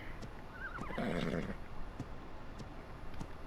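A horse in the video game Ark Survival Ascended gives a single clear whinny with a rising, wavering pitch, followed by a few soft hoof clops, moderately close over quiet ambient game sound.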